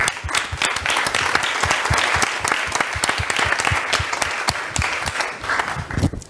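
Audience clapping at a talk on adapted physical activity, with distinct individual claps standing out from a steady rhythmic patter of many hands, fairly close and continuous.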